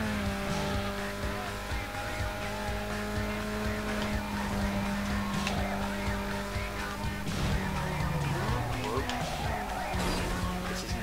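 Race car engine from Need for Speed Underground 2 drones steadily throughout with shifting pitch, with brief tire squeal near the end, loud and continuous beneath game music and someone talking.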